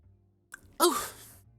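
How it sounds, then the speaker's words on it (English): A single close sneeze: a brief sharp intake, then a loud burst that fades out over about half a second against a faint hum. "Oh, sneezed."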